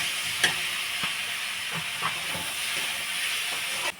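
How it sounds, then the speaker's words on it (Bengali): Date palm jaggery cooks in a pan with a steady soft hiss and sizzle, while a utensil stirs and scrapes in a few faint, irregular clicks, with no talking. "এখন দিয়ে দেব খেজুরের গুড়, এখন জাল করে নেব আস্তে আস্তে, আর নাড়তে থাকতে হবে"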